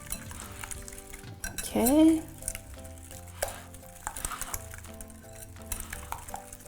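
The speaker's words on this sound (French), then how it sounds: "Donc, je mélange les ingrédients humides ensemble." Wet ingredients for savory homemade muffins are stirred together in a bowl, with clinking utensil-on-dish sounds and scraping throughout, plus a brief louder squeak in the middle; a voice speaks briefly.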